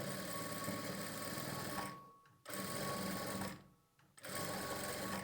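A sewing machine whirs in fast continuous bursts while stitching piping and lining onto a blouse, stopping briefly twice before starting again, close and alone without talk.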